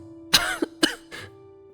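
A person coughs three times in quick succession, the last cough softer, over a steady low hum.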